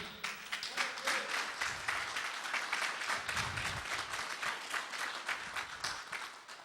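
A church congregation claps together in a sustained, moderately distant round of applause to the Lord, with a few voices mixed into the clapping.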